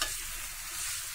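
A ground spice powder being mixed into gongura (sorrel leaf) chutney in a pan, giving a continuous close hiss of stirring and light frying over just over a second, with no talking.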